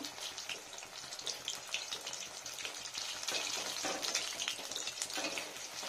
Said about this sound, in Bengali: বেশ একটু কড়া করে ভেজে নিই ফ্রেন্ডস, ভালো হবে খেতে।